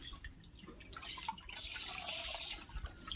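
Water flows through a newly fitted valve in an automatic cattle shed water system, running and splashing faintly and steadily, with small drips and gurgles, quiet and close.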